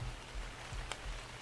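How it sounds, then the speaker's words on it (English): Rain falling in the video game Ark, a steady soft hiss of downpour with a low rumbling undertone, faint and continuous without voices. "And here comes the rain."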